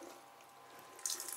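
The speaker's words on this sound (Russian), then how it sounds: "ну есть вода, идет." Tap water running into a sink aboard a MacGregor 26 sailboat, a brief soft trickle that swells into a stronger hissing flow near the end of the short snippet, with no talking.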